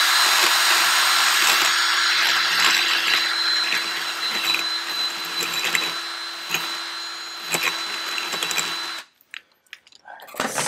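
An old Ryobi power tool runs steadily with a high, whining motor tone for about nine seconds during a Fox shock install on a Sierra Denali, then cuts off, followed by a few faint clicks and handling sounds.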